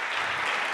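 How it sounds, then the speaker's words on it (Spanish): Brief burst of audience applause at a talk on SEO, a steady wash of clapping from a seated crowd with no pauses. "Un aplauso para él."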